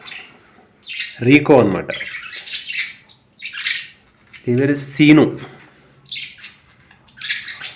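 Pet lovebirds, two males and a female, let out short bursts of squawking and chirping in repeated clusters, close by, while someone talks over and between the calls.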